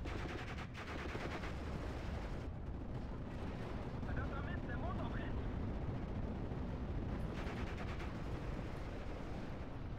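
MG42 machine gun fire and an airstrike in the video game Steel Division: Normandy 44 make a constant loud rumble of explosions and rapid bursts across the whole stretch, with a voice talking underneath.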